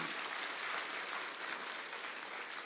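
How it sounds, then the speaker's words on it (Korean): A church congregation gives steady applause during a Sunday service, soft and somewhat distant, sustained evenly for a few seconds without any speech. "박수."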